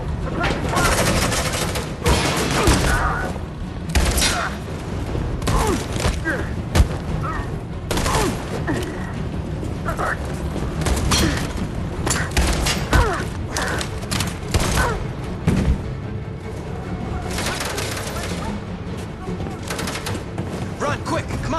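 Dense gunfire erupts in a chaotic firefight in the video game Detroit: Become Human, volleys of shots and booming blasts packed tightly over a sustained loud battle din, with shouting voices mixed in.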